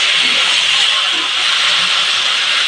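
Strong, continuous hiss of steam rushing out as the lid is lifted from a pot of ash gourd cooked with hilsa fish head, loud and close throughout.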